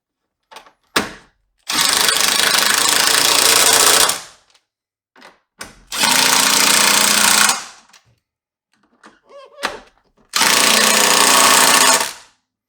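An impact-style power tool runs in three long, loud hammering bursts, tightening the strut bolts on a Subaru front coilover, with short clicks and pauses between bursts.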